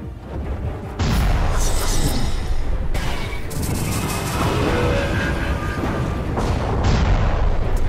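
A Doom Cannon fires in the space strategy game Halcyon 6, giving loud, sustained booming blasts with sharp onsets near the first and third seconds and again near the end, rumbling continuously in between.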